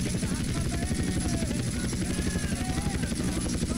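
A helicopter in GTA San Andreas drones steadily with a loud, continuous rotor chop and engine hum, holding an even level throughout.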